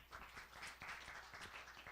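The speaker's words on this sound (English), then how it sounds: "please give a warm applause." An audience at a 2015 international nanobiotechnology symposium claps after a presentation, a steady, fairly quiet patter of many hands.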